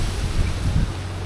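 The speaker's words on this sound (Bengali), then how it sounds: "খুব বাতাস হচ্ছে, দিকে শা শা করে আওয়াজ হচ্ছে বাতাসে।" Strong monsoon wind gusts through the trees around a village where coconut palms grow, a steady low rushing roar with swelling surges, close and alone, with no voices.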